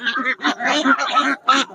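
Large ducks quacking loudly and close at a duck market, a rapid run of harsh nasal calls with a short pause before a final burst.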